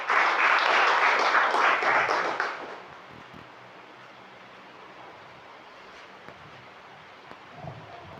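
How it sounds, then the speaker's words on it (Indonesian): A church congregation claps loudly and together for about two and a half seconds, then the applause stops and a quiet, faintly rustling room remains. "Kita beri tepuk tangan buat dia."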